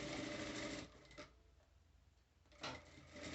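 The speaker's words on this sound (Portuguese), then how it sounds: "agora sim eu venho para a máquina e começo a costurar" Sewing machine stitching around the bottom of a fabric bag lining, a steady close whirring run that stops briefly mid-stitch, pauses, then starts up again for a final burst.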